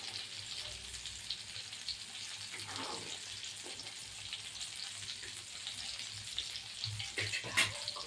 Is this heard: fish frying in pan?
yes